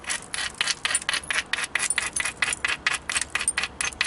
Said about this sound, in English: I think I'm going to keep working this one edge where I'm peeling the cortex off.